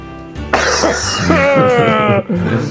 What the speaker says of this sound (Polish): A, że musiał kaszlnąć.